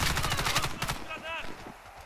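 Rapid bursts of gunfire in the shooter game Warface crackle at the start, then fade into quieter electronic effects and muffled background sounds.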